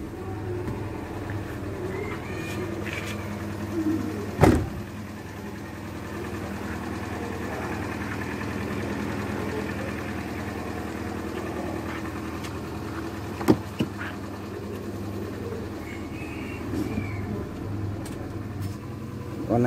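A small imported Kia Morning hatchback engine idling smoothly: a steady low hum under the open hood, quiet and even with no shudder, broken by a couple of brief knocks and clicks nearby.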